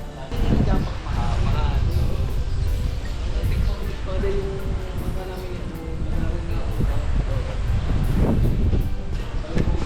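Gusty wind buffets loudly and close during a Yamaha MT-07 motorcycle ride, rising and falling in bursts, with voices talking underneath.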